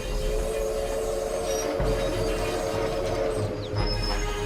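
A train rolls past in a steady, loud rumble with a faint high metallic whine running through it, and no voices are heard.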